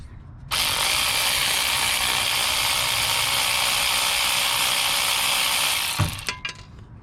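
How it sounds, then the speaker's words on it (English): Electric ratchet on the brakes of a 1998-2001 Toyota Camry runs in one continuous loud, close whirring buzz for about five seconds, then stops with a couple of metallic clicks as the bolt comes free. "So, use our electric ratchet."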